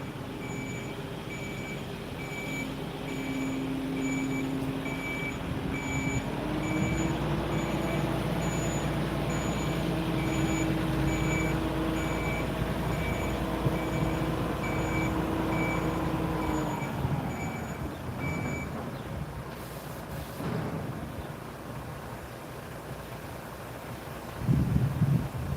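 A big recycling truck reverses nearby, its high repeating backup beeps pulsing steadily over a loud, grumbling diesel engine and hiss of air, before the beeping stops and the engine idles down.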